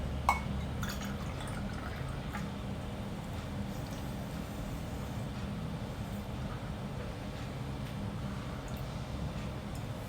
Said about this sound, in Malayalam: എന്നിട്ട് കുറച്ച് വെള്ളം ഒഴിച്ചിട്ട് ഒന്ന് കുറുക്കിയെടുക്കാം.